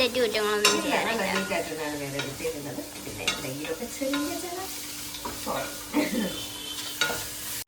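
A spoon stirs and mixes food in a frying pan while cooking traditional ghee rice, giving close, irregular scraping strokes over a light sizzle, with no talk.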